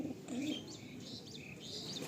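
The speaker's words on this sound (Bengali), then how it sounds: "নর পায়রা। বাহ, নর পায়রা।" A male pigeon gives a short, soft coo, with faint chirps from other birds nearby at low volume.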